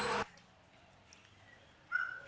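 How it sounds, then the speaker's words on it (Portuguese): A small dog, a little pet, gives a sharp, bright bark at the start, then a quiet lull and a second short yip near the end, both close and fairly loud in a quiet home. "Meu cachorrinho ainda continua."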